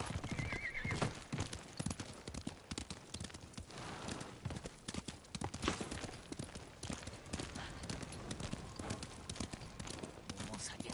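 Horses in the game Ghost of Tsushima neigh and whinny while hooves clip-clop steadily throughout, with a person talking over the busy, continuous activity.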